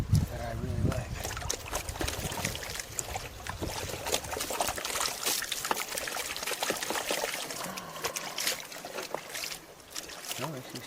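Water pours and sloshes in a square gold pan during panning in Arizona, a steady wet trickle and splash close by with bits of background noise, a voice talking over parts of it.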